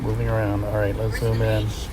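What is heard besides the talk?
No everyday noises stand out.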